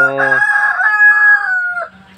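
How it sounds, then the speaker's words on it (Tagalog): An Aseel rooster, a meat-type breed, crows once nearby, loud and clear. The long, bright call wavers and then trails off, with a short cluck at the end. "dito lang pala sa gilid ko yung lalaking manok, no? Yung manok natin, yan."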